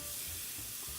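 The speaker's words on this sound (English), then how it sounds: "listen to that sizzle" Beef fajita meat sizzling and hissing steadily over a bed of natural wood coals, a close, continuous crackling fry.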